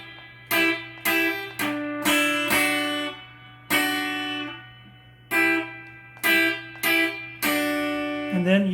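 Guitar playing a song, a string of plucked and strummed chords in a steady rhythm over a low constant hum, close and clear with no talking.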